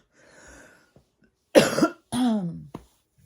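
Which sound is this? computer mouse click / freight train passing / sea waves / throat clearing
throat clearing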